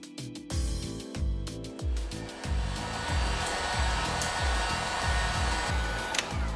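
A heat gun blows steadily close by while heating a car fender during fender rolling, giving a continuous whirring hiss with a regular pulsing throb underneath.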